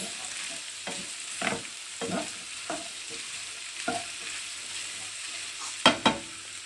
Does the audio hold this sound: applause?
no